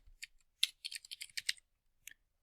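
Close, quiet typing on a computer keyboard, a short burst of crisp key clicks in an uneven rhythm ending with a single final tap.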